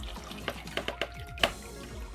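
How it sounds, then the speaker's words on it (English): Water from cooked noodles drains through a strainer in a kitchen while making Chinese cold noodles, heard as a short run of splashy pours and drips with one sharper clatter near the end. "Drain the water."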